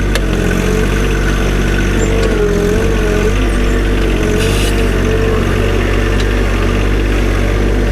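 A John Deere 1025r compact tractor engine runs steadily while loading a trailer, a loud close diesel drone with a constant low rumble and occasional clanks, no talk.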